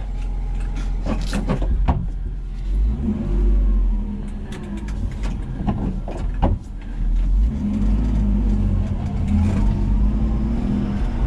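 A car engine running while warming up, holding a steady mid-pitched idle broken by several rising revs and uneven bursts, close and fairly loud with no talk.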